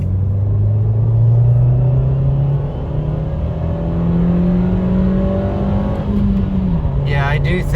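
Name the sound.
2023 Nissan Versa manual accelerating hard in second gear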